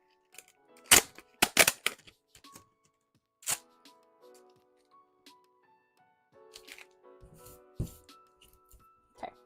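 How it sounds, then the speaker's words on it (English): Adhesive tape being pulled and handled while sewing, giving sharp crackling rips and small clicks in scattered bursts, close and fairly quiet, with no speech. "sorry for the tape noises"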